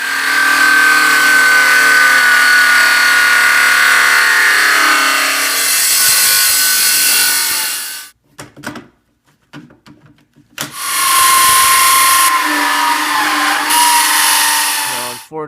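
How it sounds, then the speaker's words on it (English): A skill saw (circular saw) cutting the edge of a wooden piece, a loud close whine running steadily for several seconds, cutting out briefly, then starting again. "now I'm going to finish it out with the skill saw and sand down the edges"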